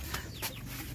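A chicken clucks in a few short, quiet bursts against faint background noise.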